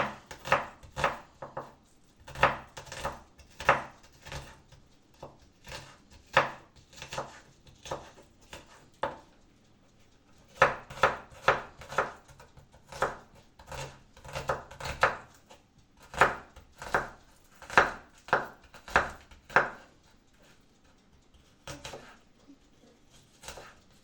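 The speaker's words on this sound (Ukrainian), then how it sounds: "я наріжу е, цибульку. Отак, тоненько." A knife thinly slices onion on a cutting board in quick bursts of crisp, close taps, pausing now and then before the next run of cuts.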